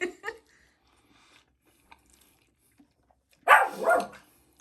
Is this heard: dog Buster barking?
yes